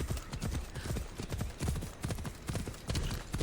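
Horse hooves clip-clop at a steady walking rhythm in the Assassin's Creed Odyssey video game, a close, repeated clatter running throughout with faint game ambience behind.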